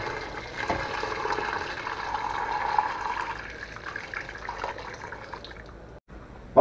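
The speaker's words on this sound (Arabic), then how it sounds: "وهي المي السخنة هلا بضيف عليها مي سخنة" Hot water is poured into a cooking pot of chicken for red chicken kabsa, making a steady, close rushing and filling sound for about six seconds before it abruptly stops.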